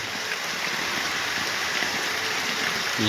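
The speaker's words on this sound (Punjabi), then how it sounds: "ਲੋ ਜੀ ਮੀਂਹ ਆ ਗਿਆ" Heavy midday rain pours down in a loud, steady hiss of dense drops that fills the whole stretch without a break, and no one speaks.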